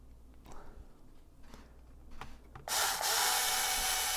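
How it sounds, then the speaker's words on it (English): A first-generation Apple HomePod is being taken apart, with a screwdriver removing the screws that secure its woofer. Small scattered clicks and taps are followed by a sudden, loud continuous whir of a power screwdriver running near the end. "Remove these 6 screws that holds"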